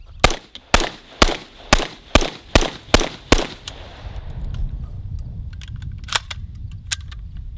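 AR-15 rifle fitted with an Xtreme Performance bolt from Sharps Rifle Company, emptying a full magazine: nine loud, evenly spaced shots in quick succession, followed by a steady outdoor rumble and a few faint clicks.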